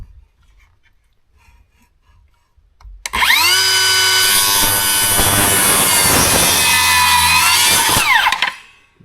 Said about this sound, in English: 45-degree bevel cut right through our 2x4.